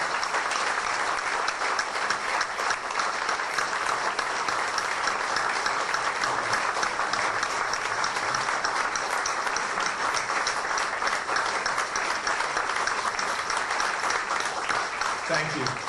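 Sustained applause fills a Veterans Day gala hall, a long and even wall of clapping that runs unbroken for about sixteen seconds, with some voices mixed in.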